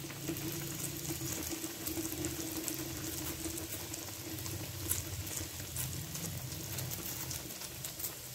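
Soft donut dough frying in hot oil, a continuous crackling bubble and sizzle that holds steady throughout, close and fairly quiet with no talking.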